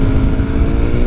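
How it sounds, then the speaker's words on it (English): A loud, steady 2022 BMW S1000R motorcycle exhaust drones close by, a deep throaty rumble that holds constant without pauses for the whole short stretch. "I wanted to show you how how loud this exhaust system is."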